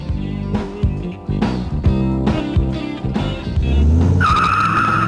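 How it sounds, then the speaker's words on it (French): A Dodge Viper sports car with a nearly 8-litre V10 drives hard, its engine revving in bursts between gear changes, then its tires squeal loudly in a sustained skid near the end, close and loud. "un V10 de près de 8 litres, la Viper peut faire à peu près tout ce qu'elle veut."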